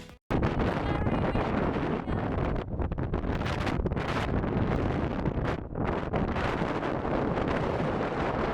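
Strong gusting wind at Lake Coleridge, New Zealand, roars and buffets the microphone in a loud, continuous rush with brief dips and surges, no voices.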